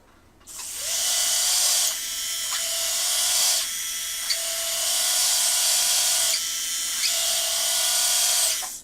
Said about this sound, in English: This is the widest drill we have in the system